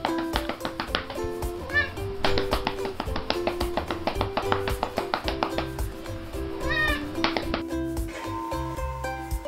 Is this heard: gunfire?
no